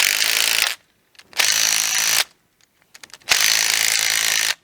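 A nut driver tightens bolts on a main feed electrical cable, making three loud bursts of rapid ratcheting clicks close by, with short pauses and faint clicks between them.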